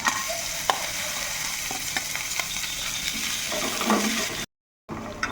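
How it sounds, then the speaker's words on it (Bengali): Whole cumin seeds and chopped green chillies sizzling steadily in hot oil in a home kitchen pan, a continuous bright crackle with occasional pops, close and fairly loud, ending abruptly. "তেলটাও কিন্তু গরম হয়ে গেছে এখন কিন্তু এর মধ্যে দিয়ে দেব গোটা জিরে এখন এর মধ্যে দিয়ে দেব কুচনো কাঁচা লঙ্কা"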